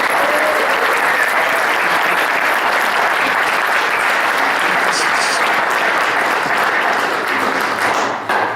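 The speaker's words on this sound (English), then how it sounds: "Give her a big round of applause." An audience at a music advocacy appreciation evening in a music store bursts into loud, dense applause for a music educator, sustained and close for over eight seconds before tapering off.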